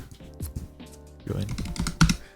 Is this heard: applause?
no